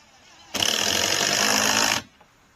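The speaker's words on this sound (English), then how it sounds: "So we can drive these lag bolts into those pilot holes that I just started." A power driver with a 13 mm socket drives a lag bolt into a pilot hole while a mailbox replaces an old gate, one loud continuous buzzing burst of about a second and a half, close and alone.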